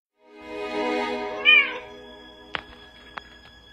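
A cat gives one long, drawn-out meow that rises and bends in pitch, loud and close, followed by a couple of faint clicks in an otherwise quiet room.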